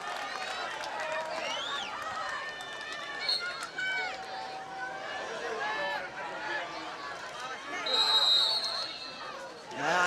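Crowd noise at a high school game on Lake Avenue, a steady hubbub of spectators cheering and yelling throughout, swelling louder near the end, with whistles and a commentator talking over it.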